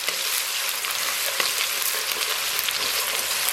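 Minced ginger, chopped scallion and sliced garlic frying in hot oil in a wok, a loud dense sizzle crackling steadily throughout with occasional stirring scrapes, close and without talk.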